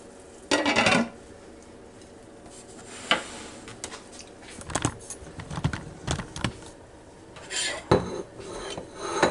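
A knife cuts into cooked spareribs on a plate or pan, giving scattered clinks and scrapes of metal against the dish, with irregular bursts of sawing and tapping close by, and no talking.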